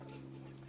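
Blue-red Wyandotte hen giving a brief, soft cluck at close range against a quiet farmyard background.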